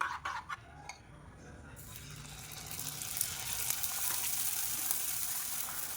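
A few utensil clinks, then batter hits hot oil and a loud, steady sizzle builds and continues.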